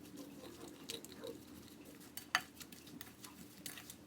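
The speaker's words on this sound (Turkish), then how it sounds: "Karıştırıyorum." A spoon stirs a meatball mix of egg, olive oil, breadcrumbs, thyme, cumin, black pepper and salt in a bowl, giving quiet scraping with scattered light clinks and one sharper knock, close and without talk.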